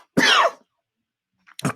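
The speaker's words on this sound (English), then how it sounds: "coughs and sputters," Someone gives a harsh, throaty cough, then falls silent for a moment before a shorter sputtering cough follows, close and alone.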